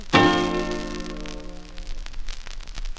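A 1939 78 rpm record by the vocal group the Cats and the Fiddle plays sustained vocal and instrumental harmony that enters with a strong attack and fades under a steady layer of surface crackle and hiss.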